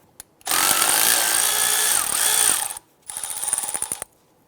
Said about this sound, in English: Using a 12mm socket, I'm going to go ahead and remove the bolt holding the flex line to the strut.